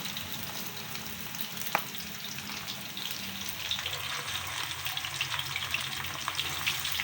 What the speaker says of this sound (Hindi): हम इसको फ्राई करने लगे।